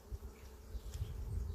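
Honey bees buzzing around an open backyard hive while a beekeeper adds honey supers, a low, wavering hum that is fairly faint and close.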